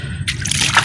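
Water sloshes and splashes as a toy sand truck is rinsed clean, a short close burst of pouring and trickling with a low background hum.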